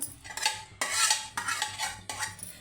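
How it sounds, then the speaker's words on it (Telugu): A spoon stirs fried cashews and almonds into sweet poha payasam in a metal pot, with several quick scraping, clinking strokes, close and alone with no voices. "మనం జీడిపప్పు బాదం పప్పు వేయించి పెట్టుకున్నాం కదండి అవి కూడా వేసేసుకుందాము"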